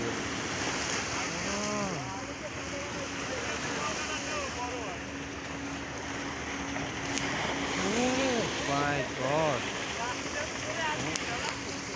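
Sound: big waves from a passing ship

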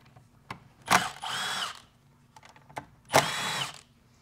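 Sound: power tool removing transmission valve body bolts, inverted Torx

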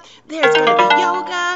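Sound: mobile phone ringing

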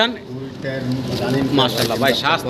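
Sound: German Beauty Homer pigeons cooing

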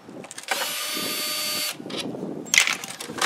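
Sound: power drill removing screws from catch basin lid

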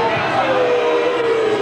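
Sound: crowd booing at a rugby league match

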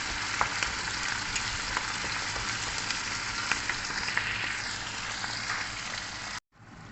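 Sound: salted shrimp paste (bagoong alamang) frying in a pan

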